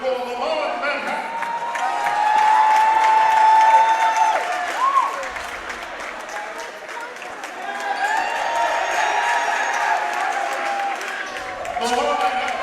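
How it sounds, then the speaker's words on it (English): Crowd applause and cheering fill a gym for the boys' JV basketball champions, Leman Manhattan, at the ISAL championship. It swells into a loud, steady wash of clapping, eases, then builds again, with voices mixed through it. "Let's give a round of applause for Leman Manhattan."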